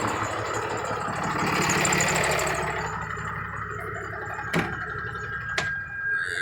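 A Cummins 6.7 diesel pickup truck engine idles close by with a steady low rumble and mid clatter, briefly swelling, then settling, with two sharp clicks or knocks near the end.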